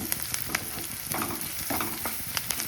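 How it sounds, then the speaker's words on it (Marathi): Onion fries in a pan with a soft, steady sizzle, broken by faint scraping and clinking as it is stirred, quiet and close with no talking. "चांगला कांदा भाजून घेते"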